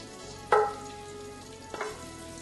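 Onions fry and brown in a pan with a soft, steady sizzle, broken by two brief louder spatters as they are stirred.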